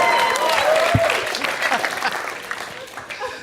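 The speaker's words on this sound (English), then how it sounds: "Yes, applaud for Doug's thick," A comedy podcast audience applauds live, a sustained wash of clapping and cheering under a voice, thinning toward the end.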